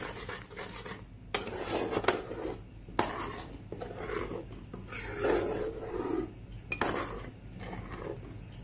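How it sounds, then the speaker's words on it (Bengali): Turmeric and salt being mixed in a dish for chitol fish, with dish and utensil clatter in irregular scraping and clinking bursts, fairly close and moderately loud, with no talk. "পুরোটাকে করে দেবো মিক্স।"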